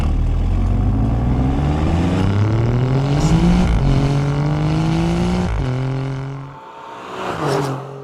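A powerful 2.9-litre twin-turbocharged Alfa Romeo V6 car engine revs up through rising gears, a loud, throaty roar climbing in pitch before easing off and surging again near the end.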